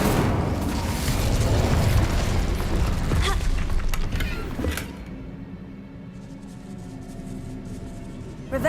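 The Incendio fire spell in Hogwarts Legacy erupts as a loud, rumbling whoosh of flame with crackling pops. It holds for several seconds, then drops away to a quieter crackle and hiss.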